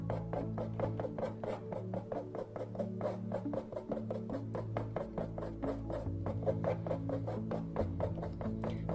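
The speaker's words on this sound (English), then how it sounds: "Sounds like sawing again." Pastel scrubs back and forth on paper while drawing a lion, a steady, rhythmic rasping like sawing, close and continuous over a low hum, with no talk.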